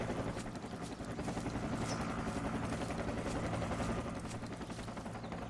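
Helicopter in the jungle combat game Project Reality thumps steadily through a dense, muffled wash of distant gunfire, sustained and fairly faint, with no talk.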